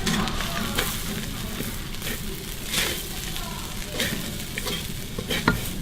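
Thai chili duck being stir-fried with kaffir lime leaves, a steady close sizzle broken by scraping spoon strokes and clinks against the pan, with faint voices in the background.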